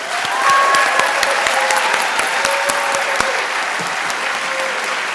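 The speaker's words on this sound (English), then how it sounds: "let's give them a hearty round of applause" Sustained applause fills a hall at a high school senior recognition awards ceremony, with many hands clapping loudly and evenly throughout and a few sharper claps standing out.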